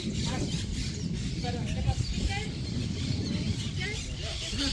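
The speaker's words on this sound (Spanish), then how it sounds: "miren los árboles llenos de catitas así" A flock of small parakeets (catitas) chirping in trees in Mendoza, Argentina, a busy chatter of scattered high chirps throughout, partly masked by a person talking over it outdoors.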